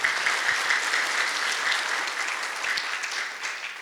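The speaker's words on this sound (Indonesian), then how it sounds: "tepuk tangan untuk Bapak Ibu semuanya." An audience at an Indonesian seminar gathering breaks into dense, sustained applause, the clapping loud and continuous from start to finish with no talking over it.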